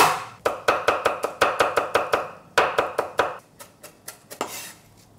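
Garlic being chopped with a knife on a cutting board for Korean cold cucumber soup: rapid, even, close, loud knife strikes in two quick bursts, the second thinning into a few lighter taps, with no talking.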